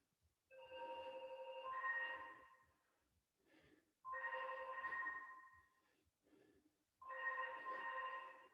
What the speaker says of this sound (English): Who's ringing me now?